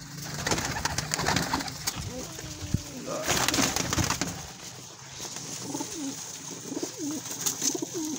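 Pigeons coo repeatedly nearby, soft throaty calls overlapping one another against faint background noise.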